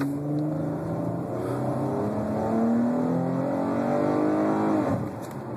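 A 2011 Dodge Challenger V6 accelerates hard, its engine note climbing through the revs with a shift partway, loud and close from inside the car before easing off near the end.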